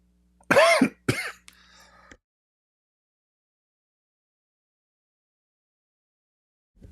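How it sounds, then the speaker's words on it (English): Two sharp, loud coughs, near and close together, then a faint rasp and silence. "Sorry, I have to cough."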